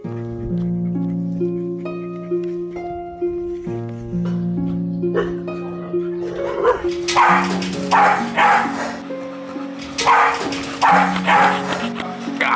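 Small dogs bark and yip in bursts during the second half, loud and close, over steady background music.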